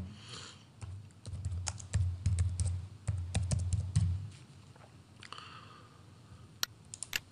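Fingers type on a computer keyboard, entering a CNIC number and password in bursts of quick, close clicks, then scattered single key taps after a pause.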